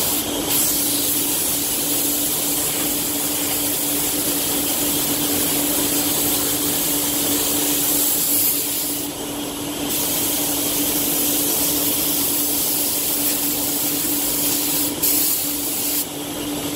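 Iwata Hakone spray gun laying down Cromax CC6500 clear coat over black paint, a loud steady hiss of atomized spray running continuously for the whole stretch with only brief dips when the trigger eases.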